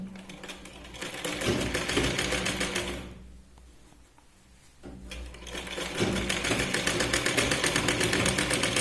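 A sewing machine runs along a folded blouse strip, a loud continuous mechanical chatter that drops to near quiet for about two seconds midway and then starts up again.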